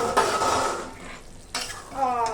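A metal lid clanks as it is lifted off a pot of simmering chicken korma, followed by a brief clatter of cookware, close and fairly loud, with a soft sizzle underneath.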